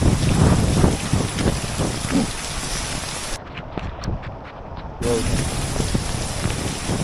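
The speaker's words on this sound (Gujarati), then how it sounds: "વરસાદ પડી રહ્યો છે." Heavy unseasonal rain pouring onto a rooftop terrace in Mendarda, Gujarat, a dense loud wash of falling water with wind buffeting the microphone and someone talking over it.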